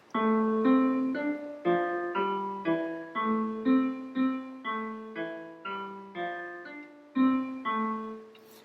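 A four-measure melodic pattern for a children's composition, played an octave lower as a series of clear, evenly paced sustained tones with harmonic overtones, each note sounded alone without talk.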